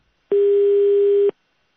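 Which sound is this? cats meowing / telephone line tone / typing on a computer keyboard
telephone line tone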